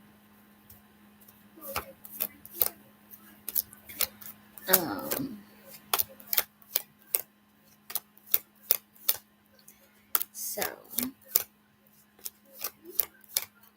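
Tarot cards shuffled by hand during a Cancer reading, giving a run of crisp, fast riffling taps and flicks in irregular bursts with a steady low hum beneath, fairly close; a voice says a single word partway through.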